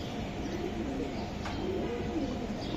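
A red khaki pigeon of a racing line coos softly amid steady background noise at a pigeon sale, with a faint voice in the background.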